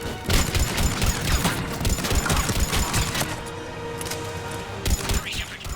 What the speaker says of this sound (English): Under heavy attack. Taking fire.